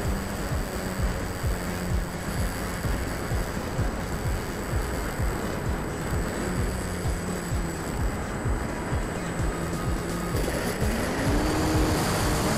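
An electric FMS Ranger RC seaplane on floats flies at low throttle, its propeller giving a steady, fairly distant drone against constant outdoor background noise for the whole stretch.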